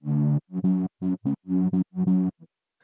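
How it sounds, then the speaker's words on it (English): A buzzy bass from the Pigments software synth plays a short rhythmic phrase of choppy notes with gaps between them, alone and fairly loud. "there's a second layer, which is the pigments bass"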